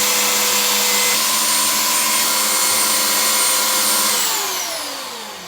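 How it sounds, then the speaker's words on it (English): A belt sander grinds a plastic prop sword with a loud, steady motor whine and abrasive rasp up close, then winds down as the machine is switched off near the end. "I'm going to turn on the belt sander and get to work"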